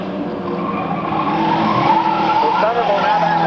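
Race cars in a Sunday Drivers stock race battle through a corner, with loud, continuous engine roar and tire squeal under an excited commentator's voice throughout.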